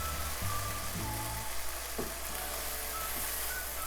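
Okra being fried in a pan gives a steady, close sizzle, with a few scraping knocks of stirring near the start and no talk.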